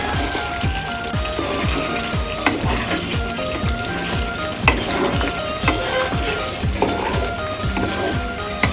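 Mutton curry frying in a pan while being stirred, continuous sizzling with repeated scraping and clinking of the spoon at an irregular rhythm, close and fairly loud, no talking.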